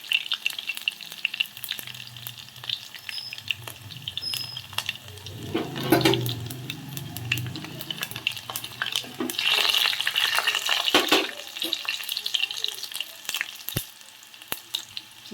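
Cumin and mustard seeds fry in hot oil, a crackling sizzle that swells and fades with scattered sharp pops and some stirring, fairly quiet and close.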